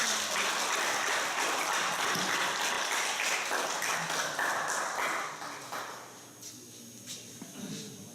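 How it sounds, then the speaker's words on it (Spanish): Audience applause at a school gathering in the Andes region, sustained dense clapping that fills the room and then thins out toward the end, with a few scattered claps remaining. "Damos la bienvenida y fuerte votos de aplauso."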